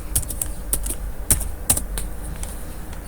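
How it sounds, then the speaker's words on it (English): A password is typed on a computer keyboard, a quick uneven run of sharp key clicks close up, with short pauses between bursts and no talking. "We need to type our password again,"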